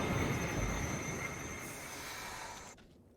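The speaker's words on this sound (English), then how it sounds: "Train coming across here again." A train in the video game PUBG rumbles past with a steady rolling roar that fades out near the end, heard alone without talk.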